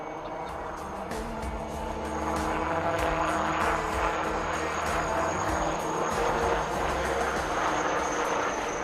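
HAL Light Utility Helicopter hovering at the Aero India 2025 air show at Yelahanka Air Force Station, a loud steady engine whine with rotor thrum that swells after a couple of seconds and holds, heard outdoors at a distance.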